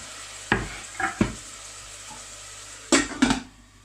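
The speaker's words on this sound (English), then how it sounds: "onion's been frying for about 3 or 4 minutes now." Chopped onion fries in a pan with the lid on, giving a faint low sizzle broken by a few sharp clinks and bursts of stirring.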